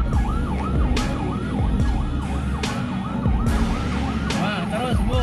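An ambulance carrying a critically ill infant wails through congested traffic, its siren cycling in a fast, repeating up-and-down sweep, loud and close over the rumble of surrounding vehicles and engines.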